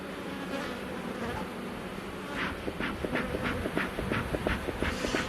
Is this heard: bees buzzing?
yes